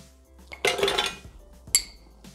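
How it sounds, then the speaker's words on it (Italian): Hard biscuits clatter and rattle into a food processor's mixing bowl in two quick bursts, the first longer, the second a short sharp clink. "Iniziamo la ricetta mettendo all'interno del boccale i biscotti."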